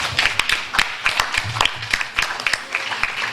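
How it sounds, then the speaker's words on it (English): Audience applauding students at a school quiz event, with scattered, uneven handclaps from a small group, fairly close and moderately loud, with faint voices underneath. "we need to applaud all of the students for their efforts"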